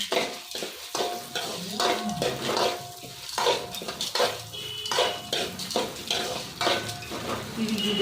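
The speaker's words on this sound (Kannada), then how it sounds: "ಈಗ ಬೆಳ್ಳುಳ್ಳಿ ಮತ್ತೆ ಸಾಸಿವೆ ಹಾಕ್ತಾ ಇದ್ದೀನಿ" Garlic and mustard seeds frying in a pan for a curry leaf chutney powder, with a constant close sizzle and repeated scraping and clinking of a spoon stirring against the metal; no speech.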